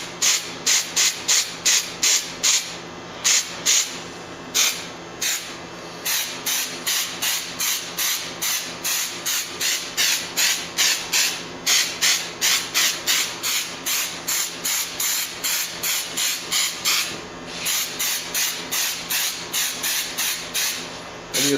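Spray paint hisses from a nearby can onto a fluffy, feathered weeping angel Christmas tree topper, in a long run of short, close bursts separated by brief pauses.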